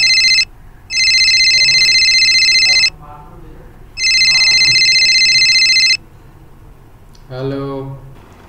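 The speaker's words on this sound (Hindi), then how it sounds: "बेटा तुम्हारा फोन आ रहा है बेटा।" A mobile phone plays a loud electronic ringtone in two long bursts with a pause between them. A voice then speaks briefly.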